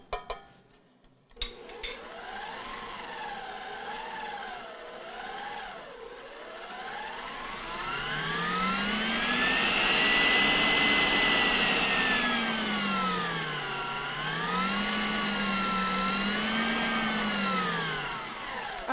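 Aicok 5-quart stand mixer creaming batter at high speed, a loud motor whir that rises and dips in pitch as the speed changes, running steadily for most of the clip with no talking.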